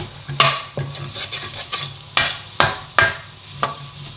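Spices frying in a nearly dry pan for a phaal chicken curry, a low crackle punctuated by sharp, rhythmic scrapes and knocks of a utensil stirring, close and clear.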